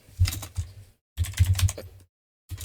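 Bursts of keystrokes on a computer keyboard while writing Node.js code, quick clustered taps in two main runs separated by a short pause, close and clear with no talking.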